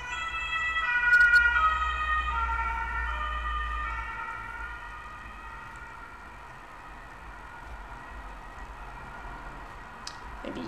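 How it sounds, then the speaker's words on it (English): An ambulance siren wails from the street outside, its rising and falling tone loud at first, then fading into the distance, alone with no talk. "Ambulance is coming!"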